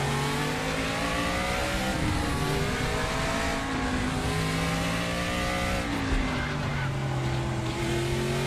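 Greg Pickett's Trans Am race car roars past with a loud, continuous engine drone, its pitch rising and falling as it revs through the pass.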